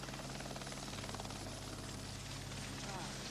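A jet helicopter flies nearby, a dense, steady rotor and turbine roar that fills the whole stretch at an even level, with a voice faintly mixed underneath.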